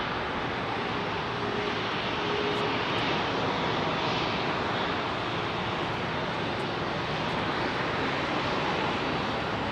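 A Delta airliner departs London Heathrow from an intersection, engines producing a loud, constant full-band roar that swells slightly and holds throughout.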